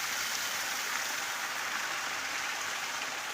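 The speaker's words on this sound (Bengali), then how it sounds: "পাহাড়ি ঝর্ণা" A mountain waterfall stream flows near a village, giving a steady, even wash of rushing water that is fairly faint and has no other sounds over it.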